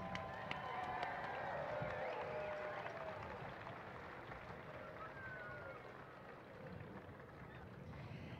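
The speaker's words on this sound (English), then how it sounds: "Give yourselves a big round of applause" An outdoor crowd at a Special Olympics Hawaii parade applauds the torch runners with steady clapping and cheering that holds at an even level for the whole stretch, mixed with wind noise.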